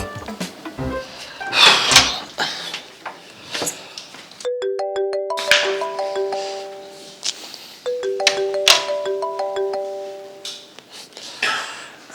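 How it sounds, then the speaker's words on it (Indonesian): Phone ringback tone heard while a call is placed, a repeated synthetic ringing pattern in two bursts, with some background movement and faint sounds between rings. "mendingan aku telepon Boy"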